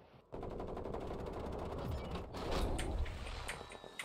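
Rapid automatic gunfire in the battle royale shooter Call of Duty: Warzone Resurgence, loud and sustained over several seconds, with bursts overlapping and a heavier burst near the end.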